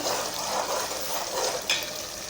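Onions frying in a pan for anda chole, a steady close hiss of oil with a soft stir scrape near the end, no talking.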